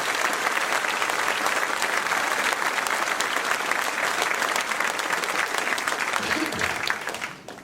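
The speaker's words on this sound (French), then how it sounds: "Je vous demande de les applaudir." An audience claps in sustained, dense applause during a mayor's New Year address in Ouistreham, steady and loud for several seconds before tapering off at the end.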